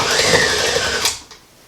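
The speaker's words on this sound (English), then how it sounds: "I'm going to lock my mixer down" A stand mixer working pecans into cookie dough, a loud close motor whir that cuts off abruptly near the end, leaving near quiet.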